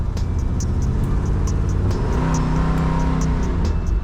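A 1965 Ford Galaxie drives off with a loud, steady engine rumble and rising hum close by, plus a faint rhythmic ticking throughout; no voices.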